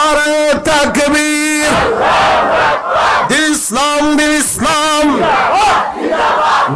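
A large crowd at an outdoor Islamic sermon gathering in Bangladesh loudly chants the takbir, Allahu Akbar, in repeated rhythmic unison bursts of many voices following a leader's call.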